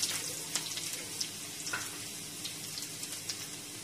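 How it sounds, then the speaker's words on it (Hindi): Garlic and then ginger frying in hot oil for mint chutney, a soft, fairly quiet sizzle with small crackling bursts scattered through it and no talking. "तो मेरा ऑयल गरम हो गया है, इसमें मैं पहले डालूंगी गार्लिक, फिर मैं डालूंगी जिंजर"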